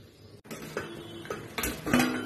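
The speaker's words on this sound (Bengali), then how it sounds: "একটা ঢাকনা দিয়ে ঢেকে দিচ্ছি" A lid is set onto a cooking pot of Bengali banana flower curry, a few quiet metallic clinks and a scrape of metal on metal, close by with no talk.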